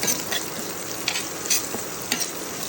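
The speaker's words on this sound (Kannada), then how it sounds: "ಆನಿಯನ್ ಫ್ರೈ ಆಗ್ತಾ ಉಂಟು" Chopped onion sizzles steadily in a hot pan for a vegetable sabji, with a soft, continuous hiss broken by a few sharp clicks and scrapes as a spoon stirs it through.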